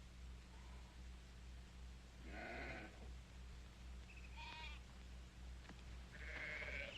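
Several sheep bleat in short separate calls at moderate distance over a steady low rumble, with pauses between the cries.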